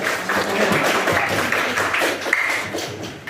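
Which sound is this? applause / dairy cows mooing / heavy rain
applause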